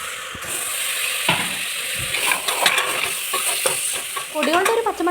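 Chicken curry gravy with cooked-down tomato and spice powders is stirred in a pan, a spoon scraping and clinking against the metal over a constant close sizzle of frying.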